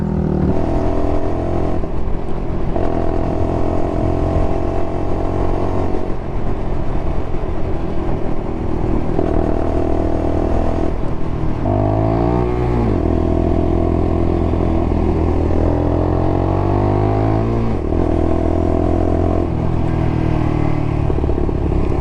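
Motorbike engine droning steadily and loudly throughout while riding, with gear changes and rising revs mid-way and a constant rumble close to the microphone, no talk.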